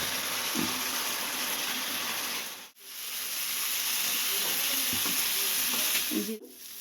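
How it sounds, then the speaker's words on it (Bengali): Spices fry with turmeric powder in a pan, a loud, steady sizzle close by. It is broken twice by brief pauses, with occasional stirring knocks over the continuous hiss. "হলুদ গুঁড়ো এবার একটু মিক্স করে নেবো।"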